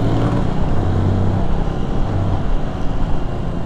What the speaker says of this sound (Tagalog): Isang traffic na lang dito sa may rotonda.